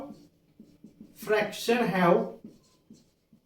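A marker or chalk scratches out short strokes on a board during a Class 7 maths lesson on fractions. The strokes are quiet and come before and after a louder stretch of a voice.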